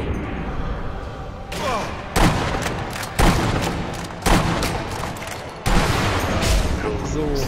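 Rifle shots in the video game Sniper Elite V2, four loud sharp cracks at roughly one-second intervals, each trailing off in a long echoing rumble, with people talking in between.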